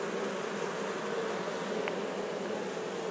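Honey bees buzzing around a hive at an apiary in Zakarpattia, a dense, continuous droning swarm hum that stays steady and close throughout, with no voices.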